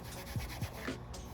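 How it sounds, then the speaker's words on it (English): A Scotch-Brite pad scuffs the paint on a truck in a few quick, rhythmic rubbing strokes, soft and close, with no one speaking. "just get a Scotch-Brite and just scuff it up"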